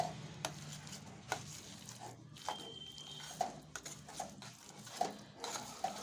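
A spoon works through a mix of jaggery, garlic and fruit in a bowl, giving quiet scraping stirs punctuated by about eight light clinks of metal against the bowl, faint and close.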